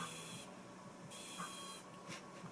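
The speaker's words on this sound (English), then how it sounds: "with my Beauty Bakery spray of Sweet Grace baking spray, setting spray." Beauty Bakery Sweet Grace setting spray misted from a pump bottle, two bright hissing bursts of roughly half a second each, close and fairly quiet.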